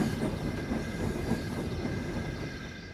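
A steam locomotive draws a rake of coaches into a station, a steady rumbling train sound with rolling wheel noise and faint squeals, continuous and fairly close with no talk.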